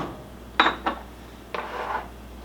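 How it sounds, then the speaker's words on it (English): A spoon scrapes and rubs through thick pumpkin soup in a pot, giving a few short, close strokes with brief pauses between them and no voices. "This is just stirring up pumpkin."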